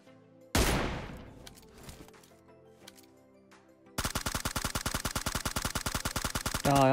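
Rapid automatic gunfire in PUBG Mobile, a loud single blast with a fading tail, then after a quiet gap a fast, evenly spaced burst of shots lasting several seconds, close and loud with no talking.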